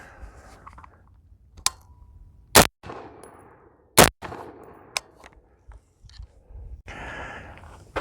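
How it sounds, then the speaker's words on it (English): .223 rifle rounds, 55-grain full metal jacket, fired into a wooden telephone pole: two loud, sharp outdoor cracks a second or so apart, surrounded by quieter clicks and handling noise. "here we go to the telephone pole with a couple of rounds of 223"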